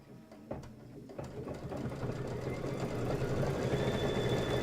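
A sewing machine sews a quilting stitch in a steady, continuous low whirring hum that builds slightly in loudness and stays close, with a few clicks at the start.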